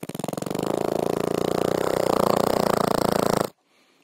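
A voice imitates a Yamaha R15 motorcycle engine, producing a steady, rapid buzzing drone close to the listener for about three and a half seconds before it cuts off abruptly into near silence.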